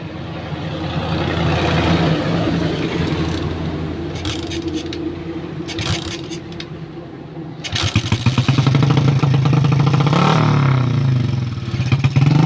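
A motorcycle engine, its carburetor recently tampered with and its ignition coil just refitted, starts and idles in a loud continuous rumble that swells louder partway through.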